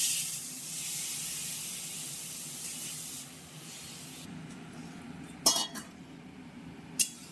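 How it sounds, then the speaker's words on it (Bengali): Water is poured into semolina frying in a pan for upma, producing a loud hissing sizzle that gradually fades, followed by a couple of sharp clinks of a utensil against the pan. "এবার এর মধ্যে আমরা জলটা দিয়ে দেবো"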